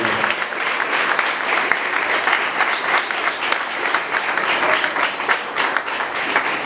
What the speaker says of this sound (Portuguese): Gente, vamos aplaudir o Senhor pela vida da pessoa Fabiana